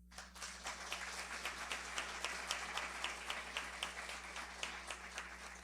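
An audience at a book launch event in Paraná applauds the mayor, a steady patter of many hands clapping at moderate distance over a low hum, sustained without pause.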